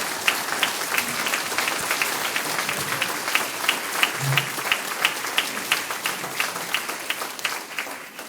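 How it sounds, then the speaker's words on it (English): A seated audience at a city commission candidate forum applauds steadily for several seconds, a dense even wash of clapping heard up close. "Please give a round of applause to each of the candidates up here."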